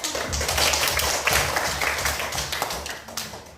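A class group claps in a quick, uneven patter that holds steady before thinning out toward the end, with light thumps underneath.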